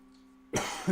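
A single short cough or throat clear bursts out after a moment of quiet, close and fairly loud.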